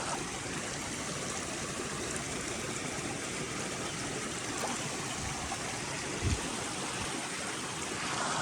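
Cold spring water flowing in a stream, a steady, close, full rushing wash that stays constant throughout, with no voices.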